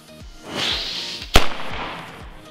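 A Nico Meteorschlag firecracker, one from a box of ten, goes off outdoors with a single sharp, loud bang, preceded by a faint fizzing fuse and a soft hiss before the blast.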